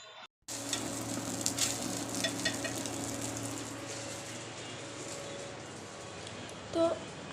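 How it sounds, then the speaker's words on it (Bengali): Garlic and four large sliced onions fry in mustard oil in a pan, a constant close sizzle starting after a brief silence and continuing evenly, with a faint clink near the end and a low hum beneath. "একটি রসুন আর 4টা বড় সাইজের পেঁয়াজ কেটে নিয়েছিলাম। এগুলাকে আমি একটু ভালোভাবে ভেজে নিব লালচে করে।"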